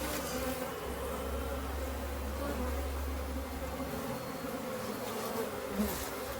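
Honey bees buzz in a dense, steady hum throughout a spring hive inspection of a heavy hive, close and continuous with no talking.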